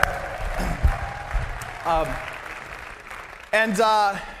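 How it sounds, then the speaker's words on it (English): An audience gives a short round of applause for Carmen at a gathering, moderate clapping under a room murmur, with voices speaking over it and a louder burst of voices near the end. "Give Carmen a round of applause."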